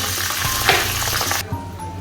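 Capsicum sizzling in a hot pan over a tempering of garam masala, bay leaf and dried red chilli, a loud close hiss that cuts off abruptly partway through, leaving a low background hum.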